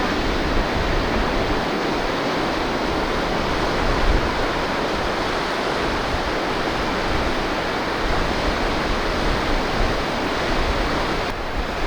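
Ocean waves breaking along a rocky coastline under clear skies, a loud, steady roar of surf rolling continuously with no gaps and no voices.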